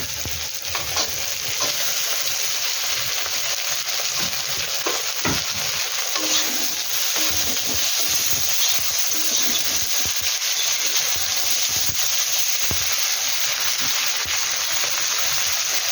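Onion and two bay leaves frying in hot oil for a catfish curry, a steady, loud, continuous sizzle with occasional stirring scrapes, no voices.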